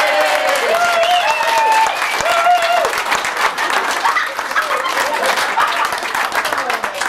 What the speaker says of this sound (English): everyone will give you a huge round of applause